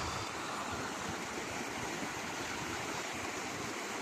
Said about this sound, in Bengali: এই যে পানি, কত সুন্দর ঝর্ণা তৈরি করছে